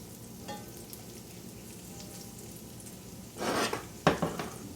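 Okra fries in hot oil on an electric stove that has just been switched off, a soft steady sizzle broken near the end by a few louder clatters of utensils against the pan.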